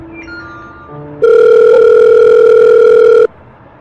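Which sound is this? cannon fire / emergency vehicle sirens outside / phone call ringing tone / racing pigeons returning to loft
phone call ringing tone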